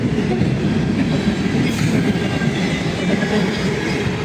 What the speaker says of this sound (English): Picked up a lot of speed. Might be a transfer train.